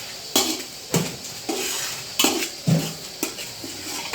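Onions sautéed in a pot while being stirred for prawn biryani, with a spoon scraping and knocking the metal pot in about seven sharp, evenly spaced strokes over a faint sizzle. Close and clear, with no voices.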